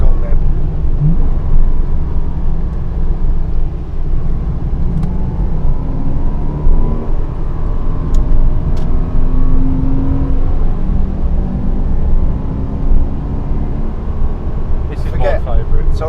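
A Porsche Cayman driven hard around Blyton Park circuit, its engine droning and rising steadily close up from the cabin, with occupants talking over the continuous engine noise.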